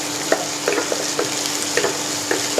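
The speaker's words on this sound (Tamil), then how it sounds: "சேர்த்துட்டு நல்லா வதக்கி விடுங்க" Onion masala with slit green chillies sautéing in a pan for a soya chunk biryani, a steady sizzle broken by several clicking scrapes of the spoon as it is stirred, close and alone.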